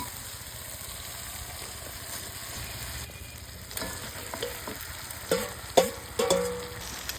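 Fish heads fry with spices alongside banana stem in a pan, giving a steady soft sizzle that grows busier toward the end with several sharp spatula scrapes and knocks.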